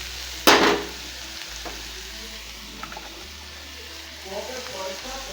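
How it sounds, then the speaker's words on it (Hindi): Potatoes fry and sizzle with cauliflower in a pan, stirred with a sharp scrape near the start, then a steady hiss continues over a low background hum. "इसमें हम आलू डाल देते हैं ताकि आलू भी भुनता रहे इसके साथ।"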